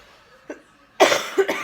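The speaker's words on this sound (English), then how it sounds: "I still have this terrible cough" A short cough, then a louder burst of two or three harsh coughs close to the microphone, with no talking.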